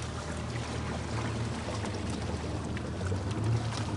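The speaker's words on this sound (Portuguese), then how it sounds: "vamos ver qual foi a velocidade que ele alcançou, motor Mercury Optimax 300" A speedboat with a Mercury Optimax 300 XS outboard motor runs at high speed, a loud, steady roar of engine and rushing water and wind that continues unbroken and alone.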